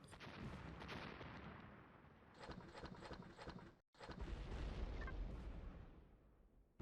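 Dense, rumbling booms and crackling blasts of explosions in the video game Empyrion Galactic Survival pile up continuously, with a brief cut to silence before the heavy barrage resumes.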